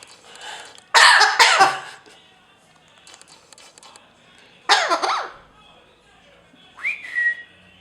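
A pet parrot mimics a human cough with a few raspy, throaty bursts separated by quiet pauses, followed by a short rising whistle near the end.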